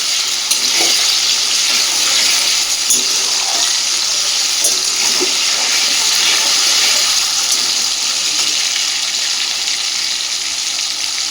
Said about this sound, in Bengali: লবণটা দিয়ে আলুটাকে বেশ একটু হালকা ভেজে নেবে।